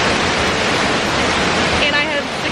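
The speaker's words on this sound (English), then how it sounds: "Waterfall is pretty loud right now." A loud waterfall roars close by in a natural outdoor setting, a dense, constant rush of water that stays full and unbroken throughout.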